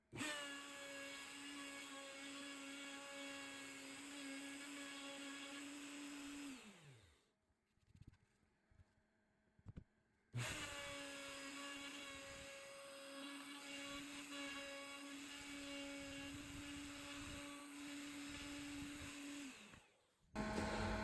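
A handheld router carves down a composite wing wooden bowl, giving a loud, steady high-pitched whine that cuts out for a few seconds mid-clip, then starts up again and runs steadily before spinning down at the end.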